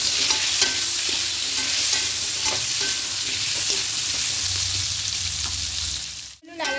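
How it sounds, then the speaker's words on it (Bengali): Potato pieces frying in hot oil until browned for a vegetarian potato and pointed gourd curry, giving a steady close sizzle broken by repeated scraping and stirring clicks, with no talking. "আলুগুলো দিয়ে লাল লাল করে ভেজে নেব"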